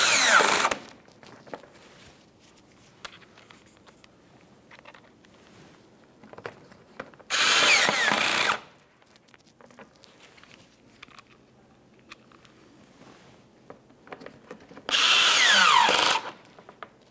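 Under the bumper cover of a 2012-2018 Nissan Altima, a power drill drives Phillips head screws in three separate loud, whirring bursts of about a second or two each, with quiet handling noises between them.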